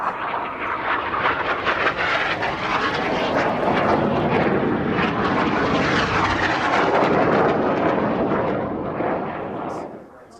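A synchro pair of jets flies opposition barrel rolls at an air show, a loud, continuous roar that swells and holds across the pass before easing off at the end.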